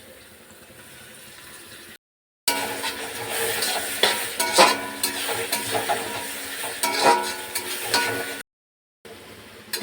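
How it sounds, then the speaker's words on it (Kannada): Chopped tomatoes fry in hot oil in a pan, giving a close, steady sizzle with stirring scrapes and little crackles, broken by two short silent cuts. "ಈಗ ನೋಡ್ದಾ ಟೊಮೊಟೊ ಎಷ್ಟು ಚೆನ್ನಾಗಿ ಫ್ರೈ ಆಗಿದೆ"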